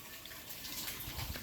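Water flows slowly through a thin pipe on a rooftop, a steady hissing wash of running water heard close up with no talk.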